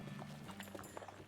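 Hooves of Donkey, a strange horse in the game West of Loathing, clip-clop in a few quick, faint steps under a low murmur of voice.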